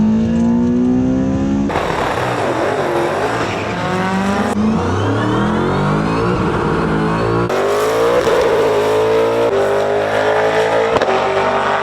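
Honda VTEC engine revving hard through the gears during a street-car race, loud and close, with rising pitch sweeps broken by sharp drops at each gear change, the engine droning continuously throughout.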